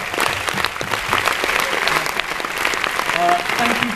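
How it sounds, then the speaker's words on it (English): An audience at a film Q&A applauds in a dense, continuous roar of clapping, fairly loud, with a voice faintly breaking in near the end. "A round of applause for Colgate Lady."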